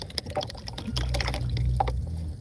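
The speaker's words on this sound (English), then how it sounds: "I'm going to talk while I rinse out my brushes." Paint brushes rinsed and swished in a container of water, giving close, loud liquid splashing and dripping sounds with a steady low rumble, no voices.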